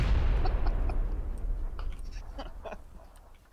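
Grenade blast in the PUBG video game: a heavy low boom at the start that decays over a few seconds, with scattered small pops and crackles trailing behind.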